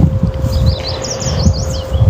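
Small birds chirp and tweet near a row of birdhouses outdoors, quick high calls repeating over steady wind and leaf rustle, fairly close and clear.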